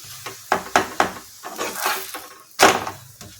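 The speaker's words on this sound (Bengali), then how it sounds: "দেখুন বন্ধুরা, এইভাবে আমি সবগুলো ভেজে নেব, সবাই দেখতে থাকুন।" Cabbage parathas fry in a pan with intermittent sizzling bursts and the scrape and clatter of a spatula against the pan, close and fairly loud, with no talk.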